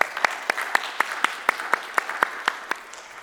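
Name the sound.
congregation applauding in church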